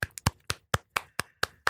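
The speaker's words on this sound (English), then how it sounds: "All right, clap it up for Bobby Brown." A string of about eight crisp hand claps sounds in a steady, slightly uneven rhythm, close and clear with no talk over it, giving it up for Bobby Brown.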